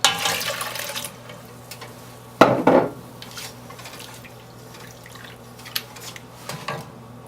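Water poured into a cooking pot for waakye, a short splashing pour at the start and a second brief gush midway, followed by quiet drips and faint kitchen clinks, with no talk.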